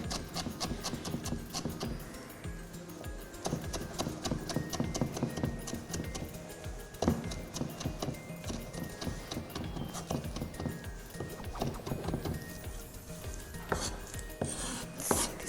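Coriander being finely chopped with a knife on a board for chicken white karahi, a rapid, steady run of close, crisp knife taps throughout, moderately quiet, with no talking.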